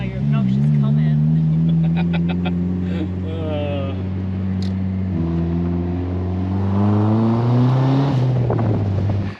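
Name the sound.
Mazda Miata car driving and accelerating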